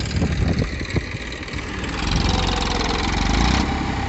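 The diesel engine of a stuck Massey tractor runs loud and close in a steady, rough drone that strains and grows slightly louder toward the end.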